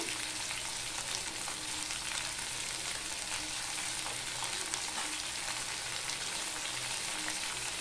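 Potatoes frying with tempering spices, salt and turmeric for a vegetarian drumstick curry, producing a dense, even sizzle that holds steady throughout, close up and with no voices.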